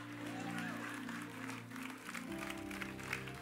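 A church congregation claps during a sermon, soft scattered clapping set behind sustained organ or keyboard chords, with a faint voice mixed in.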